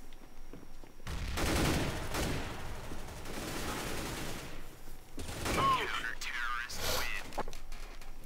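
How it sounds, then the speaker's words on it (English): Gunfire bursts and a flashbang grenade going off in the game Counter-Strike: Global Offensive, with loud sustained rapid shots and sharp blasts filling most of the stretch. "Deploying flashbang."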